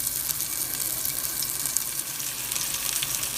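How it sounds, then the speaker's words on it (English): Homemade casingless sausage sizzles and spatters steadily in a lightly oiled frying pan, a continuous close crackling fry with small pops and no talking. "let it heat up, and I put the sausage in."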